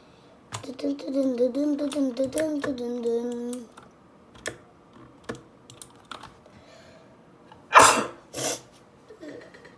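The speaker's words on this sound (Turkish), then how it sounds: "Ay dördüncü hapşırmam bugün." A person sneezes once, loud and sharp near the end, after a stretch of someone humming or vocalizing and a few clicks and taps; a softer vocal sound follows the sneeze.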